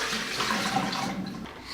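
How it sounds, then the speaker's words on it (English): Water pours and splashes close by as warm water is swapped out for cold water with ice, a steady running and gurgling sound that trails off near the end, with no talking. "change out my warm water for cold water with ice in it."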